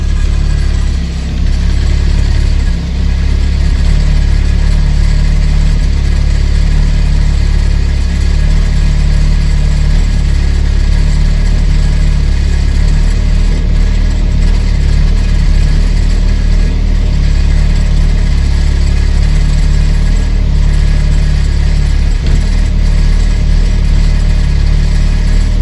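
A classic Mini fitted with a turbo idles steadily and loudly at close range, a low continuous engine drone with faint mechanical ticking running through the whole stretch and no talk.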